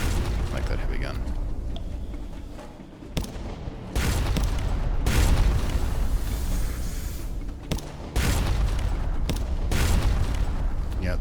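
Heavy ship's deck gun in the game Sunless Sea fires a few deep booming blasts with rumbling tails, loud and close, separated by short lulls.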